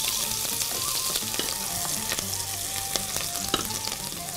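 Finely chopped onion fries in hot oil for a soup, a dense, steady crackling sizzle with occasional sharp pops and light stirring, close and loud throughout with no voices.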